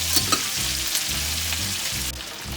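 Chicken wings frying in a pan with soy sauce, a dense, steady sizzle with light spoon or spatula scrapes and clatter, close up with no talking.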